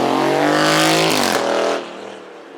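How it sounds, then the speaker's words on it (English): A Mercedes-AMG with a 4-litre twin-turbo V8 roars past on a racing circuit at a supercar weekend, loud and close, its engine note rising and then dropping away as it passes. "You'll hear it before you see it. 4 litre V8 twin turbo, it's an AMG."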